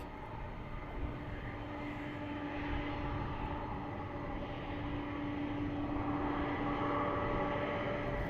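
A military F-15 jet takes off at RAF Lakenheath, a steady, broad engine roar that holds loud and constant throughout with a faint tonal whine running through it.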